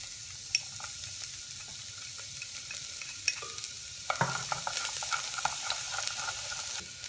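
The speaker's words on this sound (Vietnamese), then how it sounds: "Đây là phần tỏi và hành hành tím á. Mình sẽ bỏ vào mình xào cho nó thơm." Garlic and shallots stir-fried in a pan, a steady soft sizzle with scattered utensil clicks, then a louder burst of crackling as more goes in partway through, with no talk.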